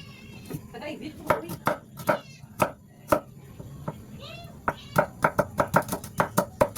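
Ginger being chopped with a knife on a board: a string of sharp, close taps in uneven bursts that quicken into a fast run near the end, with a voice talking softly underneath.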